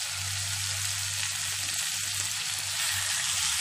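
Five hundred grams of chicken fries in a pan for Tamil pepper chicken, with a loud, continuous sizzle and a low steady hum beneath it, close up and with no voices.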